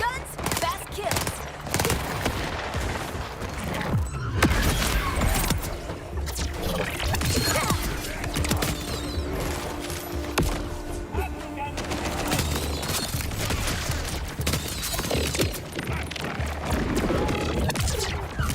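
Rapid automatic gunfire from fast-firing guns in Borderlands 4, with dense bursts of shots crackling almost without pause, layered with impacts and game effects, and a voice talking at times.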